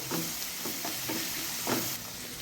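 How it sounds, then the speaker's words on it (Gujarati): Ground sesame stirred into a ginger-garlic-chili paste in a pan while cooking a chickpea gravy curry, giving a steady close sizzle with several soft scraping stir strokes and no talk. "હવે તેમાં આપણે તલનો ભૂક્કો ઉમેરી દઈશું અને આપણે થોડીક વાર સાતળી લઈશું"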